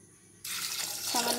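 Water pours steadily into a pressure cooker holding chickpeas for boiling, a sudden broadband rush that starts abruptly and keeps flowing, with a low resonant tone rising near the end as the pot fills.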